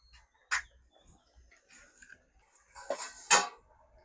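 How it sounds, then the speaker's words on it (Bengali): A lid is lifted off a pot of cooking cauliflower, potato and eggplant, with a few sharp metallic clanks and rattles spaced out over quiet moments, close by and alone. "ঢাকনাটা তুলে নিলাম, একটু লাড়া দিয়ে দিব।"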